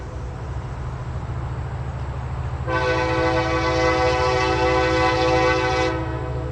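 A heavy stone freight train rolls slowly past with a low, steady rumble of wheels and cars, while a loud, sustained horn blast sounds for about three seconds midway through.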